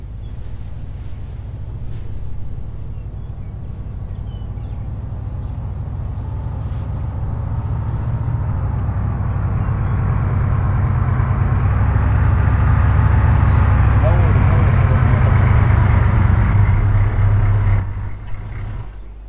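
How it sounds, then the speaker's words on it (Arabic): Car engine in the Arma 3 video game, a steady droning hum that swells louder as the vehicle approaches and then cuts off near the end, with no talking. "هاي سيارة."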